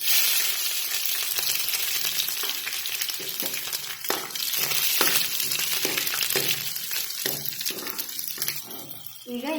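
Garlic frying in hot oil with curry leaves for a quick tomato gojju, a loud continuous crackling sizzle with stirring clatter, close throughout, with no talking.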